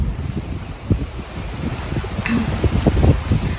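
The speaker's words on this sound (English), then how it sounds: "It's getting really windy." Strong wind buffets the microphone outdoors, a continuous rough roar with gusty bursts and rustling throughout.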